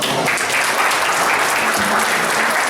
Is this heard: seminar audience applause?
yes